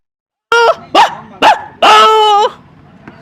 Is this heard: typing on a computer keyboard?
no